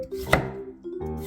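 A knife cuts carrots into long, fairly thick strips, giving one crisp chop against a cutting board followed by softer scraping, close and clear.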